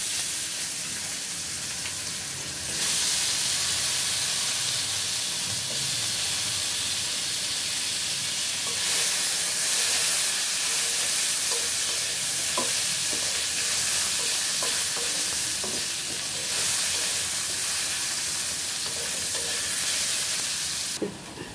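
Potatoes frying in mustard oil with cumin seeds and a bay leaf, a dense continuous sizzle with stirring scrapes, swelling louder around the moment they are added and holding steady throughout.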